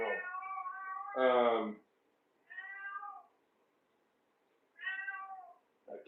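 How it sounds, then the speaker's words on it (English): A cat meows loudly several times in short, drawn-out, tonal cries separated by pauses, close to the microphone, with a brief spoken word at the start. "That cat, man. He's so loud."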